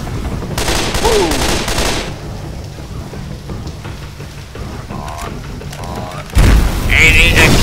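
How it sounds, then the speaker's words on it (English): A pipe bomb explodes in the Left 4 Dead video game, with booming blasts and crackling debris under excited player talk, and a second loud burst near the end. "Let's get that quick explosion."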